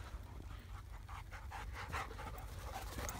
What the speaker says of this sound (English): Luna, she's a lovely big dog.